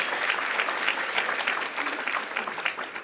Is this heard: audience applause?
yes